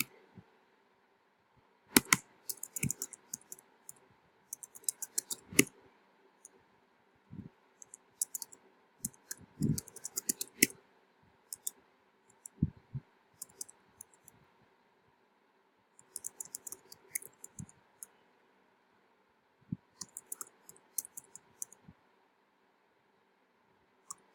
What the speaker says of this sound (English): I just click here, go here, add an address.